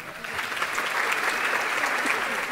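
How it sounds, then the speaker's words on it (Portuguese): A live audience at a Brazilian talk show greets a guest with applause, a steady, moderately loud patter of many hands clapping together for a couple of seconds. "Palmas para o Rodrigo."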